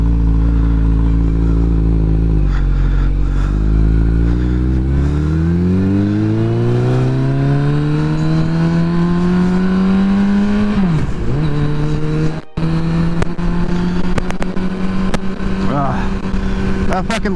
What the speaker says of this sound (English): I fucking love this bike.